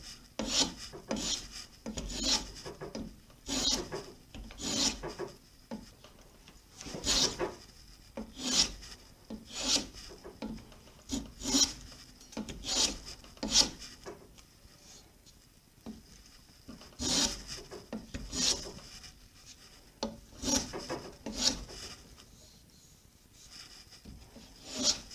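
Wooden foundry pattern being scrubbed by hand with an abrasive: rhythmic rasping strokes, each a short scratchy burst at a steady back-and-forth pace, close and fairly quiet with no talking.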